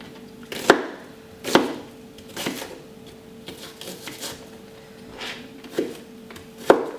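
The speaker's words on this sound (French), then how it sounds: "je vous montre une technique qui n'est pas la bonne du tout pour émincer les oignons" A knife chops onions in sparse, uneven strokes, about six sharp taps against the board spread over several seconds, close and fairly loud with no talk.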